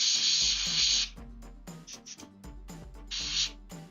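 Paint sprays and spatters while a miniature is being painted, with two bursts of loud airy hiss, one long and one shorter, separated by small clicks and taps.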